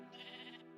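A single short sheep bleat from a video game, a faint, nasal, wavering call lasting under a second with no other sound.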